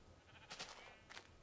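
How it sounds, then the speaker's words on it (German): Sheep in the Minecraft video game bleating twice, with two short, moderately faint calls about half a second apart over quiet background ambience. "Schaf."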